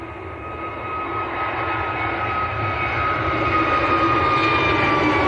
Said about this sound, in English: There's EasyJet's A321 Neo going to Nice in the south of France.